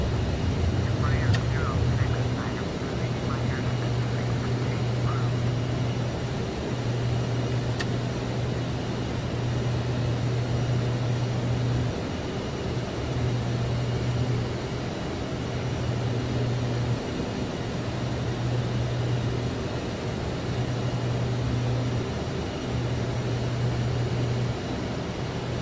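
Fixed-wing aircraft engine drones steadily while climbing after takeoff in the Prepar3D flight simulator, on a leg from Uruguay to Argentina, with a continuous hum and a pulsing low tone holding level throughout.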